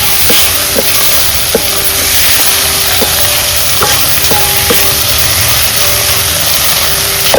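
Okra, a village ladyfinger, sizzles steadily in a pan with tempering for a Malvani curry, a continuous close frying hiss broken by several short clinks of a spoon against the pan, with no voices.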